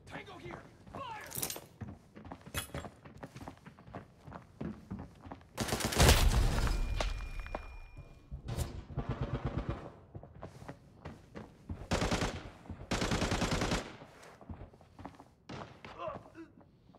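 Gunfire in the video game Arena Breakout: sharp shots and bursts scattered over many seconds, with heavier loud volleys around the middle, mixed with thuds and clatter, and voices speaking in between.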